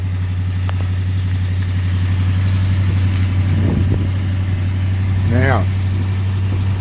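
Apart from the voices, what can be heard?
1987 Jeep Grand Wagoneer engine idling quietly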